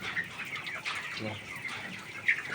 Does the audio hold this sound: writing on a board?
no